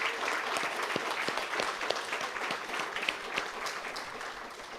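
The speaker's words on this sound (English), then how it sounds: "Please extend a hand of applause to our European Union friends." A crowd at a handover ceremony for 18 housing units in Dominica claps steadily throughout. The applause is a continuous wash with some individual claps standing out.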